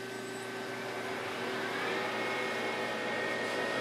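An Acra lathe's spindle spinning steadily in a mid-range gear, a constant machine whine with a faint hum that starts up and holds at a low, even level.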